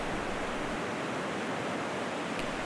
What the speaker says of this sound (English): this waterfall is unique in that it comes directly out of the rocks